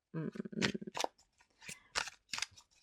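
Stiff playing cards are tugged and slid out with several quick, papery scrapes and snaps, close by.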